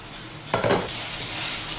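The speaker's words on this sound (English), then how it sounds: "Give it a quick stir again and make sure that it doesn't stick to the bottom." Vegetable pulao sizzles in a pot as a spoon stirs it through a brief scraping burst, with a steady frying hiss continuing afterward.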